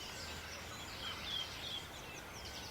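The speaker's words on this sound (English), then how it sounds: "there is quite a cacophony of birds, isn't there? Believe it or not, they're redwing singing." A chorus of many redwings singing in woodland, a steady faint wash of thin, high chirps and twitters with no single bird standing out.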